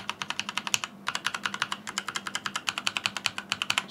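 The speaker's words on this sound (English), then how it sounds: "So let's just test the AWSD keys first." Rapid clacky keystrokes on an ROG Falchion NX compact wireless mechanical keyboard, the W, A, S and D keys tapped in quick bursts with a short pause, close and crisp with no talking.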